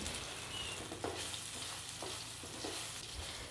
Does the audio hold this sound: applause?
no